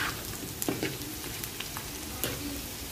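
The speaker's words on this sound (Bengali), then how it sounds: "তা আলুগুলো ভালো করে ভেজে নিব আমি।" Cut, washed potatoes with no salt or turmeric fry in hot oil, giving a steady close crackling sizzle with a few sharp pops and spatters throughout.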